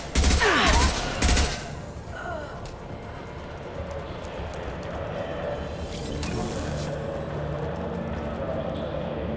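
A few loud, sharp gunshots crack out at the very start in Mass Effect Legendary Edition, then the scene drops to a quieter, steady background hum.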